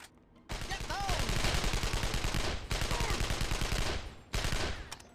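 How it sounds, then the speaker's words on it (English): AK rifle gunfire in Contract J.A.C.K., three long rattling automatic bursts of rapid shots, loud and close, separated by brief pauses. "There's a little bit of recoil with the AK."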